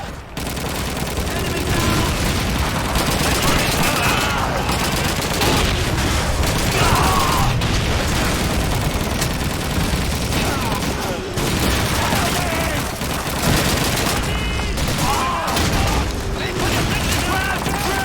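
Dense Call of Duty 2 gunfire runs almost without pause, with rapid automatic bursts and single shots mixed with booming grenade explosions, loud and close throughout the whole stretch.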